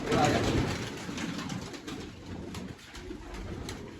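Pigeons cooing in a rooftop loft, with soft low coos and wing flutters mixed in a steady busy background; a person talks faintly at times.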